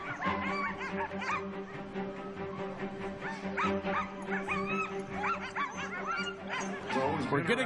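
Sled dogs at the start of the 40th annual Iditarod Sled Dog Race bark and yip in a dense, overlapping chorus, with laughter and voices of a crowd mixed in close by.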